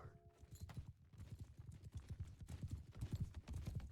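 A horse in a multiplayer battle game clops along with a steady run of faint hoofbeats, sounding distant and low in the background.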